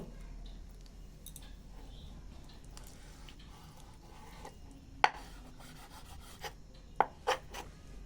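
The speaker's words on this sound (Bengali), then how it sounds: "এটা আমি কেটে নেব সরু সরু করে সরু সরু করে কেটে নেব" A knife slices chicken breast into thin strips on a board, quiet rubbing strokes broken by a few sharp taps of the blade hitting wood near the end.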